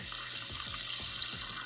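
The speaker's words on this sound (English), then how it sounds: "because this is a new water filter, what you want to do is you want to flush it out" Water rushes steadily from a new Samsung French door refrigerator's dispenser while the filter is flushed, a continuous hissing stream with faint rhythmic pulses, close and alone without talk.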